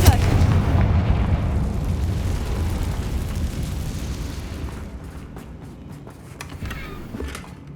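Spell blasts in Hogwarts Legacy, Bombarda and Confringo, erupt as a dense, loud rumbling barrage of booms that fills the opening seconds, then thins into scattered crackles and a final smaller burst near the end.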